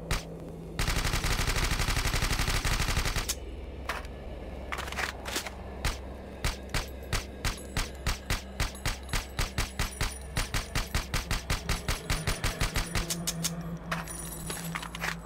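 Automatic gunfire in the game Lastworld: a long sustained burst, then a series of rapid sharp shots fired in short clusters, loud and close, with no voices.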